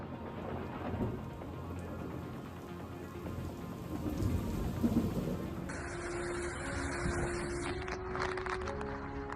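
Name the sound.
thunder and rain from lightning storm over North Houston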